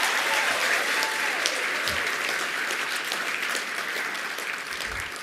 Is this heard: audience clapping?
yes